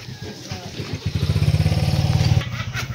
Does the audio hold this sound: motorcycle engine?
yes